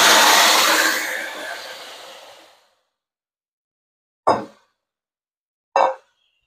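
Chicken pieces dropped into hot mustard oil tempered with whole garam masala, cardamom, cinnamon and cloves, giving a loud burst of sizzling that fades over a few seconds, followed by two short sharp clatters.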